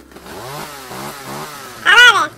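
A chainsaw in Minecraft revs loudly in a series of rising and falling buzzing strokes, then roars up into a sharp, harsh burst near the end, with no voices over it.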